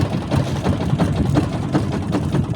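A boat engine idles steadily on a night fishing trip, a low, continuous rumbling drone with a faint rhythmic pulse, close and fairly loud, with no talking over it.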